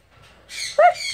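A pet bird gives a brief, loud, close call with a rising tonal note against a quiet room, with no talk over it.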